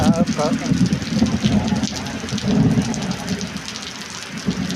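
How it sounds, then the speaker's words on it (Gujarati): Dense rain pours steadily onto surfaces, with a low rumble in the background and indistinct voices talking over it. "અચાનક જ વરસાદ આવી ગયો"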